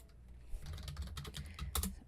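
Quiet, close keyboard typing as a short command is entered on a computer, a quick irregular run of soft key clicks with one sharper tap near the end.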